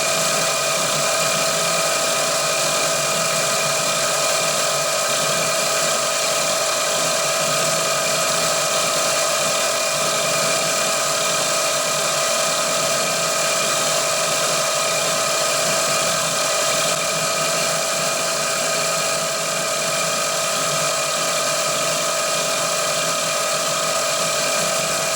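A drill bores steadily into a part of a Titan .60 glow plug model engine, cutting down to about 9.5 mm, giving a loud, continuous whining hum with a high-pitched tone that holds unbroken for the full stretch, with no talking.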